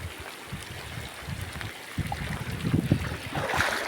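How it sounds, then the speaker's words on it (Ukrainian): Floodwater spills out of a roadside ditch and runs across a road, a steady rushing wash of moving water with rising, gurgling splashes toward the end, heard alone outdoors. "вода не йде ровом, а витікає сюди на дорогу і вода тут піднята"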